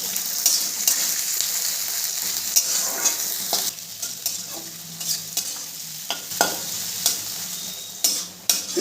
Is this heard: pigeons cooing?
no